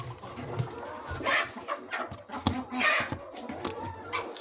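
Chickens on a poultry farm cluck and coo in a soft, continuous murmur, with scattered louder calls rising out of the mix at moderate distance and no talk over them.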